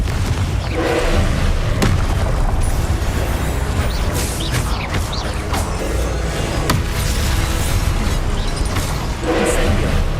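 Confringo explosive spell blasts in Hogwarts Legacy combat, a loud, dense stream of booms and crashes repeating over a steady rumble of game action.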